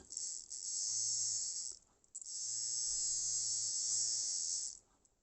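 A small electric motor from a Piko BR64 model locomotive, run on a 9-volt battery, whirs with a high-pitched buzzing hum in two runs separated by a brief pause, steady and close.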